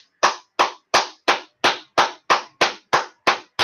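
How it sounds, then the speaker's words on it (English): A single person claps eleven times in a steady, even rhythm, each clap sharp and close with silence between. "I am going to actually give this man a round of applause for once."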